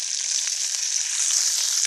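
Onion, coriander and herb leaves frying in a wok, a bright, dense sizzle that stays steady and close for the whole short stretch.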